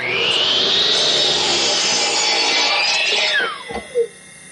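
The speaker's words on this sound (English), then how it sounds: "And I'll cut a 15-degree angle on the other side." Sawing a 15-degree angle across a 1x6 board as part of building an easel: a steady, loud rasping cut for over three seconds that winds down and trails off, followed by a couple of brief knocks.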